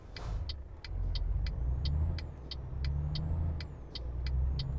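A car passes on a motorway in the Euro Truck Simulator 2 driving game, its engine swelling and fading under a steady cab drone, with a regular ticking indicator clicking throughout.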